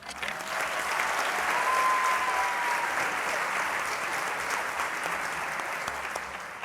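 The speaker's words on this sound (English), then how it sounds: "let's give a round of applause" An audience at a Teacher of the Year celebration gives a sustained round of applause, a dense wash of many hands clapping that swells early and fades gently toward the end.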